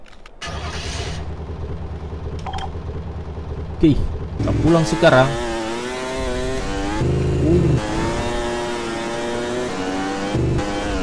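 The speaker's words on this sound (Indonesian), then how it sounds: "Aku kan siapkan motor untuk pulang." A motorcycle in an Upin and Ipin style video game, set in a dangerous place with a Titan, starts up and pulls away, its engine note climbing steadily over a low idle while a voice talks.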